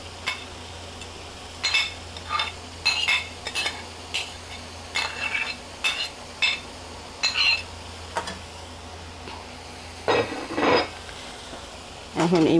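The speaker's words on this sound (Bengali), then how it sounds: "মাছটাকেও বেগুনের সঙ্গে এইভাবে নেড়ে চেড়ে ভেজে নেব" Hilsa fish stir-fried with eggplant in a pan, a spoon scraping and turning the pieces in short repeated bursts over a low steady sizzle, close and moderately loud.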